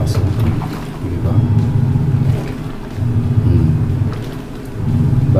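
A Nikai fully automatic washing machine runs its wash cycle with a loud, continuous low churning rumble that swells and eases in rhythmic surges as the drum alternates direction.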